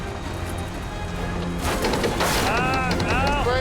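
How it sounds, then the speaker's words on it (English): Metal tearing and banging during a heavy tow truck recovery on a highway, with pop rivets giving way; broad crunching and rumbling swell midway over a steady engine drone, with high metallic squeals near the end. "You hear all those little pop rivets going pop, pop, pop, pop, pop, pop, pop, all the way around."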